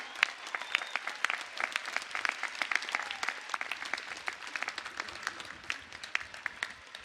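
A large graduation commencement audience applauds steadily, a dense wash of many hands clapping continuously and loudly throughout, with no voices standing out.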